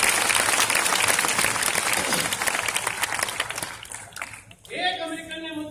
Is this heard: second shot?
no